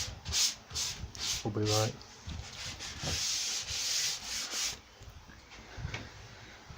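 Hand sanding painted MDF edges with 320-grit sandpaper, heard as a series of short rasping strokes in quick rhythm, close and moderately loud, with brief speech in between.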